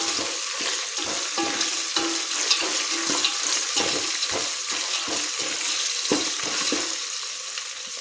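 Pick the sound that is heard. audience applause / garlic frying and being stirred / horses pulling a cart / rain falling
garlic frying and being stirred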